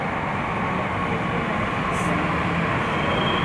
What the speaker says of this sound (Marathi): मेट्रो आलेली आहे बघा आमची